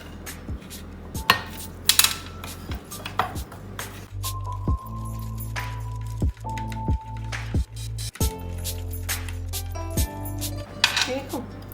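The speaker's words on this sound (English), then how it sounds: "I have about a cup of powdered sugar" A spoon clinks and scrapes against a bowl while a powdered sugar and milk glaze is stirred, a steady series of sharp metallic taps and knocks, close and clear, with a voice talking in between.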